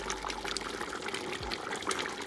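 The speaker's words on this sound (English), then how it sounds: "So let me go ahead and add some more water." Water poured into a pot of simmering oxtails on a stovetop, a soft, steady splashing and trickle lasting a couple of seconds, fairly quiet and close, with no talking.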